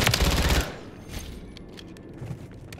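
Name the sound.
gunfire from a video game, ISO 9mm SMG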